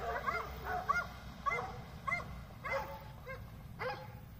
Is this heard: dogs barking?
yes